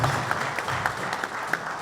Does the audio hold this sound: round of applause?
yes